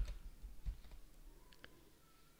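A command tapped out on a computer keyboard while running a Kivy lesson app, heard as a few faint, scattered key clicks in a quiet room.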